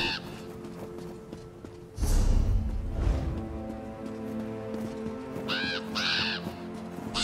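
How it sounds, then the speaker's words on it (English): Crows caw in a video game scene, with harsh repeated calls near the end over a steady ambient background, preceded by a louder rushing whoosh. "Two birds."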